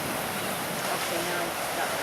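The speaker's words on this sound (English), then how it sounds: "See the surf crashing in down below." Ocean surf breaks against the rocks below a coastal lookout on Espanola Island in the Galápagos, heard as a steady, wind-buffeted roar of churning water throughout.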